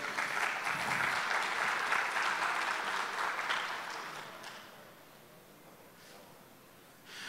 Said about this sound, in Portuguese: Peço que uma salva de palmas, senhoras e senhores.